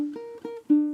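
Ukulele picking a diagonal scale pattern, three clear plucked notes ringing one after another in about a second, close and fairly loud with no talking.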